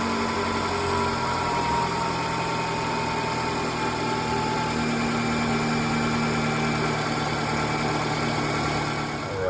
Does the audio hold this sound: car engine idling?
yes